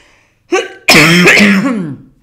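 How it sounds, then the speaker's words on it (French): A short throaty cough followed by a longer, harsh, voiced coughing fit, loud and close, with no one speaking. "je vais m'arrêter là quand je commence à tousser"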